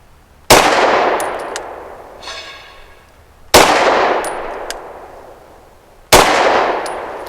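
A Canik TTI pistol firing Norma frangible 65 grain ammunition at a range: three loud, sharp shots spaced a few seconds apart, each with a long decaying echo and faint metallic clinks afterward.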